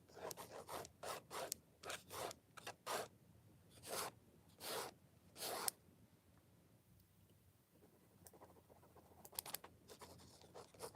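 Pencil or pen strokes scratch across paper in a steady series of short, close, quiet rubs and scribbles, alone with no voices.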